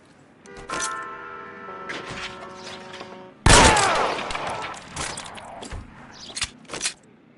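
Gunfire from a police shootout in LA Noire Remastered: a sharp loud volley hits midway after a tonal hum, followed by scattered, fading shots and thuds, with a few isolated cracks earlier.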